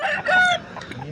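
A rooster crows at a rooster market in Nallapadu, a loud, close call lasting about a second and rising into a sustained harmonic note before tailing off into clucking and market chatter.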